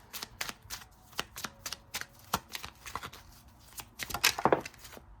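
Tarot cards being shuffled up close, a rapid patter of crisp card slaps and riffles that builds to a denser flurry near the end.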